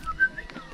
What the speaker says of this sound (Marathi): याले ते शिट्टी वाजवत आहे